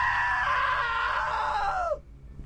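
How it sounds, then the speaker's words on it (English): A loud, sustained scream in the video game What Remains of Edith Finch, a single drawn-out shriek holding steady for about two seconds before dropping off abruptly into quiet. "Now that was a great scream."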